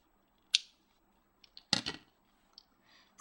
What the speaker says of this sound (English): Pull it and cut it for all of them.